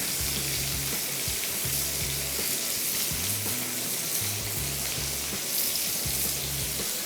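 Hara masala seekh kabab on a skewer, cooking with a steady, loud, close sizzle and hiss throughout, with a low rhythmic hum beneath it and no talk.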